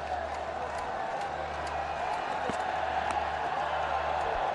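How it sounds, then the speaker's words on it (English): A cricket stadium crowd at a Pakistan vs West Indies one-day international celebrating a run of sixes, a steady distant roar of cheering with scattered horns under a commentator's voice. "And this crowd is celebrating"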